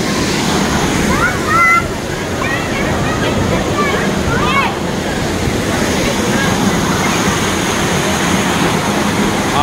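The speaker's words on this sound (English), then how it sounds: "It was an awesome experience hiking to this waterfall." A waterfall on a hiking trail roars in a steady broadband rush, with short bird chirps over it and a brief knock early on.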